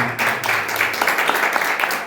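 A church congregation claps for the Lord during a service, giving a steady run of hand claps that lasts the whole moment, with a preacher's voice over it.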